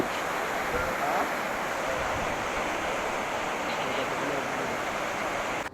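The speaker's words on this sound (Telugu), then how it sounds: "వాటర్ ఫ్లో అయితే చాలా ఫాస్ట్ ఉంది." Fast-flowing Alaknanda river near Mana village on the way to Badrinath, heard from a bridge: a constant, loud, broadband rushing roar of churning water that never lets up.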